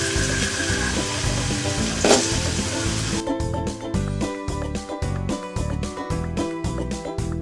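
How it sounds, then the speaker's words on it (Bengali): Potato pieces hit hot oil in a pan for a Bengali laita fish curry, giving a steady close sizzle at first that turns into a crackling, bubbling fry with a faint rhythmic pulse underneath. "দিচ্ছি তেল, এইবার দিলাম আলু টুকরো"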